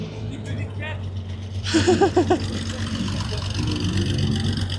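A Porsche Carrera drives past at a busy Daikoku parking area in Japan, its engine rising briefly in a burst of revs over a low crowd murmur while people talk nearby.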